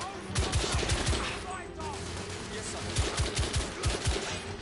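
Rapid gunfire from the video game The Order: 1886 rattles through the clip in several quick bursts of automatic shots, loud and close, layered over a steady game ambience.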